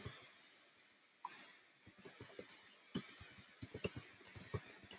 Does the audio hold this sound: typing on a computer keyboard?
yes